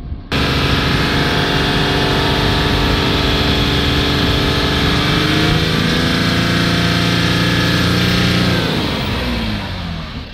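A Jaguar XF 3.0 with a partly blocked diesel particulate filter runs with revs held up around 2500, giving a loud, steady engine drone that rises in pitch after the start and eases down toward the end.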